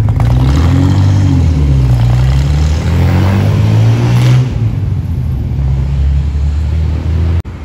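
A Porsche 992 GT3 sports car in Monaco passes close by with a loud engine rumble that rises and falls, then settles into a steady low drone, with no talking.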